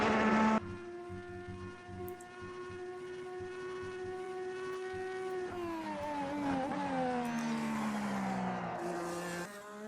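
A race car in an Automobilista 2 replay drones with a strong, steady engine note that climbs and dips as it passes, loud and continuous with no voices.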